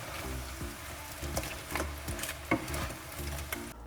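A crab roast with curry leaves is being stirred in a pan, giving soft scraping and clattering strokes in irregular bursts under steady background music.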